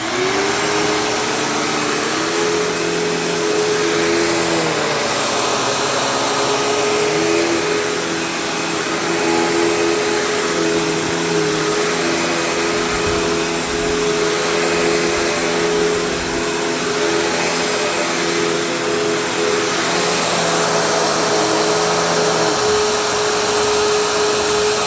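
A Kenmore PowerPath upright vacuum cleaner (116/UG4A) with a badly worn belt runs on carpet at the medium setting, producing a loud, continuous motor whine with a slight shift in pitch partway through and no speech.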